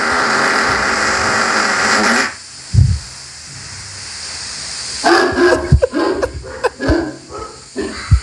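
Replayed footage of dogs startled awake by a fart: a loud, rough burst gives way to quiet, then a string of sharp barks and yips mixed with thumps, close and fairly loud.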